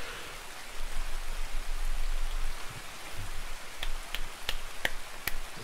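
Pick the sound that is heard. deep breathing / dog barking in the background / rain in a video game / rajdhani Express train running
rain in a video game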